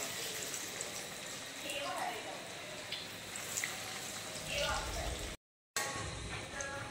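Fish cutlets deep frying in hot oil in a Kolkata-style fish dish, giving a steady crackling sizzle throughout with scattered pops and brief louder bursts, broken by a short moment of silence near the end.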